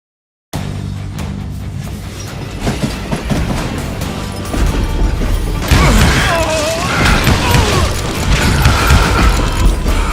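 A train rolls along its rails in the Western shooter Call of Juarez Gunslinger, a steady rumbling, rattling ride that swells louder midway, with a brief metallic squeal riding over the clatter.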